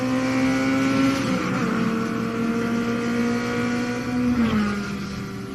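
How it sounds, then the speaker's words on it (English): Racing car engines in the Forza Motorsport video game drone loud and continuous, the pitch holding steady and then dropping sharply as a car shifts or brakes, with no talk. "Hear Forza Motorsport like never before. Every tire squeal, every engine, lap after lap."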